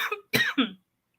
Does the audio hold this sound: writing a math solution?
no